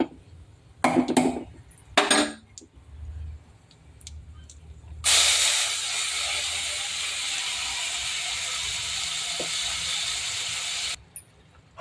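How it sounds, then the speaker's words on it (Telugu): Mustard seeds and two dried red chillies hit hot oil in a pan for a dondakaya gravy curry. A few sharp clinks and spatters come first, then a loud, steady sizzling hiss that holds for several seconds before cutting off abruptly. "కొన్ని ఆవాలు వేస్తున్నాను. ఇవ్వండి 2 మిరపకాయలు వేస్తున్నాను."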